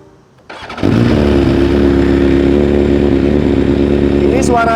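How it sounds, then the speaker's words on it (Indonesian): A BMW S1000RR inline-four sport motorcycle engine starts up and holds a loud, steady rev with a drag clutch fitted, the raw mechanical drone filling the clip close by and alone. "Buat yang belum pernah denger drag clutch di motor BMW inline"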